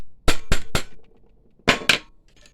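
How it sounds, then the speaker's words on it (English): A hammer strikes metal in tight quarters during a UV printer repair, three sharp quick blows, a pause, then two more, each loud and close with a brief ringing tail. "there's not much space for swinging the hammer"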